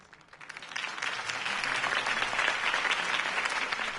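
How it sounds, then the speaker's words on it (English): Crowd applause after Harvey Dent's campaign speech in a Batman video game, swelling from a faint start into a sustained, fairly soft wash of clapping. "If only Mr. Wayne, my campaign's largest backer, could have heard that applause"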